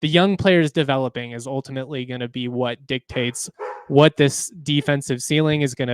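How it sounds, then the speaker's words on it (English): A dog barks and yips in the background of a room while someone talks steadily over it. "Sorry about my dog there. He's in the background."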